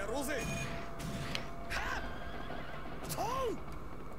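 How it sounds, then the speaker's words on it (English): A giant robot horse in a video game lets out a few whinnying neighs, a short one near the start and a rising-falling cry near the end, all under a continuous background bed of game noise. "You should all just appreciate the giant robot horse."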